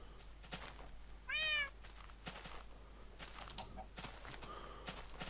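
A cat in the video game Minecraft gives one short, clear meow about a second in, standing out above a steady low background of game ambience with faint clicks.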